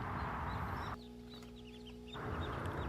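Young incubator-hatched chicks, grown a little, raised in a homemade incubator on a poultry setup in Dubai, cheep repeatedly over a steady background hum. Short high chirps come in quick bursts, close and fairly soft.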